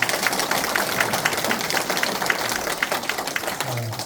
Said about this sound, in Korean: 감사하다고 박수 한번 보내주시고요